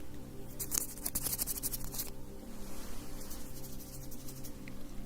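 Soft scratchy rubbing and brushing of gloved hands, quiet and close, with a flurry of rustling strokes early on that settles into a steady faint friction.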